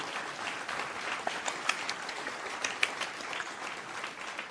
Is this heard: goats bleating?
no